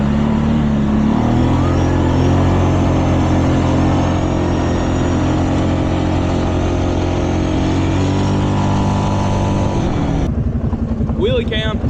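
Cummins diesel truck engine droning steadily from inside the cab while driving through a snowstorm, loud and continuous with shifting tones, then cutting to a quieter moment near the end.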